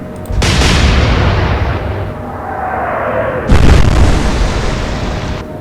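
Heavy warship gun salvo boomed out in the Atlantic Fleet naval game: a loud blast at the start, a long rumbling decay, then a second powerful report about three seconds later, with no talk.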